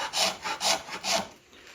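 A hand scraper drawn across wood, three rhythmic strokes close by, each a dry, loud rasping scrape, then a brief pause.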